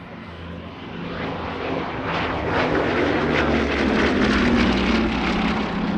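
A Bristol Blenheim 1F flies a solo airshow display, its piston engines a broad, droning roar that swells gradually as the aircraft draws closer.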